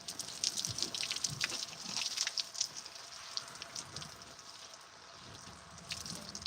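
Water drips and trickles in a barn after an animal is hosed off, soft scattered patters and splashes, faint and close, with no talk.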